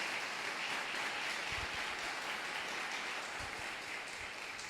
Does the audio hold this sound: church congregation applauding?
yes